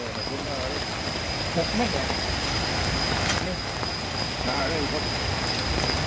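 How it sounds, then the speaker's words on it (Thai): Night rain falling on a hammock camp in a southern Thai forest, a dense, steady patter of drops on surfaces with a constant insect-like high tone running throughout. "นี่ก็บรรยากาศยามฝนตกของเรา ค่ำคืนนี้"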